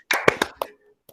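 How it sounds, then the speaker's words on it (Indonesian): A class of schoolchildren clapping hands, a few quick sharp claps in a rhythmic burst with voices mixed in, then a single softer tap after a short pause. "Kita tepuk tangan dulu."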